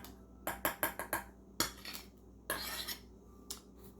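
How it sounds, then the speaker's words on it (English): A metal spoon clinks and taps against a surface and a sourdough starter jar, a quick run of sharp, close clicks followed by a few scattered knocks in a quiet room. "I'm going to move my spoon over here."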